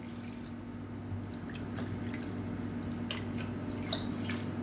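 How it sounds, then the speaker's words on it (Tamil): Water poured into a cup while making a horse gram and green gram kanji porridge, a steady close trickle with light splashes and drips throughout, no talking. "இப்போ இதே கப்பில் 3 பங்கு தண்ணி ஊற்றிக்கலாம்."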